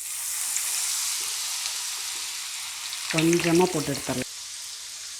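Masala sweet corn deep-frying in hot oil in a pan gives a steady, bright sizzle throughout, with someone briefly speaking over it partway through.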